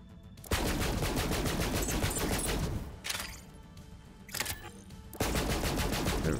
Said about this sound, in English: It's a Maliwan pistol. Let's give it a shot.